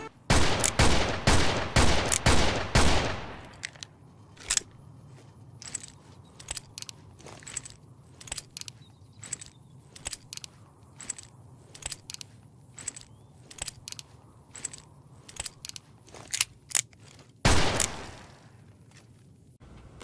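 Gunfire from a modded weapon in Fallout New Vegas: a rapid burst of loud shots at the start, then scattered single shots and clicks over a low hum, with another heavy blast near the end.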